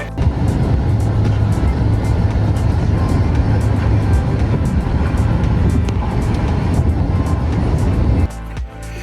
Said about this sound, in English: we are in the rental car.